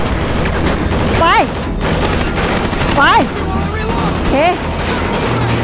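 Bursts of gunfire from the video game Call of Duty Ghosts, loud and repeated across the clip, with shouted excited voices and pitch-sliding whoops rising over the shooting.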